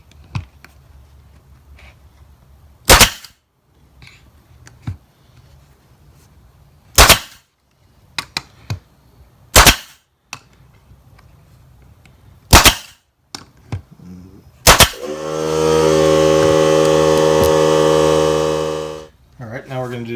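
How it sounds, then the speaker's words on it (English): Sharp, loud single shots from a nail gun driving one-inch nails into wood for a homemade letter press, spaced a few seconds apart, followed by a sustained buzzing hum near the end. "take my nail gun"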